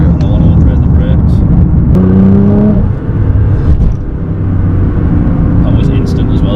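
A 680 bhp Nissan GT-R R35 accelerates hard, its engine a loud, dense roar from inside the car with a rising tone through a gear, while people talk over it.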